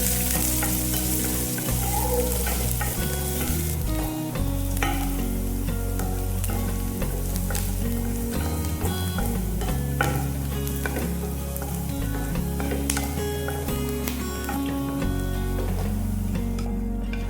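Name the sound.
onion, green chili and curry leaves frying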